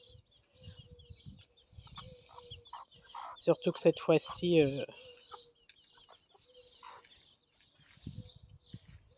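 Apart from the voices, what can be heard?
chickens clucking in a henhouse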